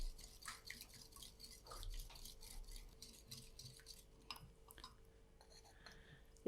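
A spoon stirs egg and vegetable batter seasoned with black pepper in a bowl, producing soft, quiet scraping and clinking in a steady rhythm, faint and close.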